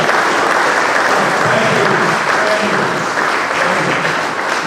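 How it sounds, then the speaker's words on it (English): A conference audience applauds the media in a dense, sustained wash of clapping, with crowd murmur and a brief spoken thanks mixed in. "A round of applause for the media."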